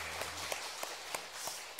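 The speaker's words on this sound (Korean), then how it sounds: "하나님께 영광의 박수 올려드립니다" A church congregation at a Sunday worship service claps in praise, a faint, distant wash of applause with a few sharper claps standing out.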